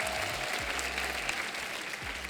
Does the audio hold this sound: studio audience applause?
yes